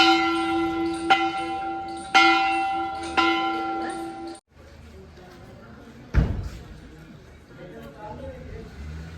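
A heavy temple bell at the Ganesh temple in Khhoda is struck four times at roughly one-second intervals, each clang ringing out with bright, sustained tones. Then the bell falls silent, leaving a low crowd murmur and one dull thump.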